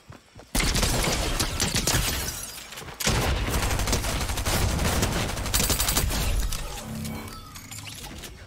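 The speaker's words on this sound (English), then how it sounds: "I missed so many bullets on that SMG" Sustained SMG gunfire in a no-build Fortnite match, loud and dense from about half a second on, with a brief break near three seconds before the rapid shots resume and fade toward the end.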